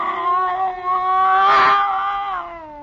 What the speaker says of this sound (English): That scrawny cat Clara that Mother Willis had sneaked aboard in La Guaira.